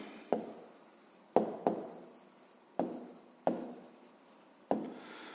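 A pen writes down a math answer in short, separate scratching strokes, about six close, quiet bursts with brief pauses between them.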